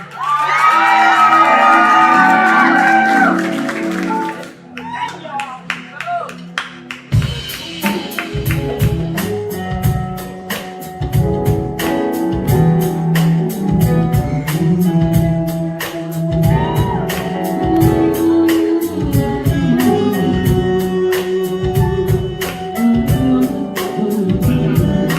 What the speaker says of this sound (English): I need that applause again.